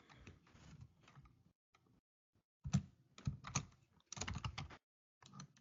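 Bursts of keyboard typing, clicky keystrokes in uneven runs separated by short pauses, fairly close.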